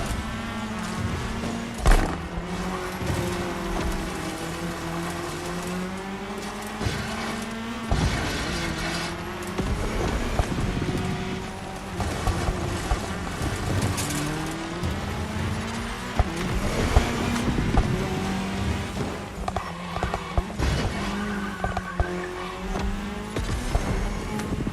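Race car roaring across tarmac in The Crew Motorfest's Red Bull Speed Clash cross-terrain event, engine revving and shifting continuously with brief tire squeals and bumps, loud and close throughout.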